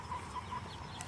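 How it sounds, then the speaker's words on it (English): A hungry backyard chicken clucks softly three times in quick succession, close by, amid faint household background noise. "Crazy chicken."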